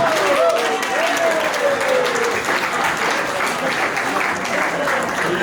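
Wedding guests applaud loudly and steadily at a reception during the speeches, a dense continuous wash of clapping with crowd murmur and a voice heard over it at the start.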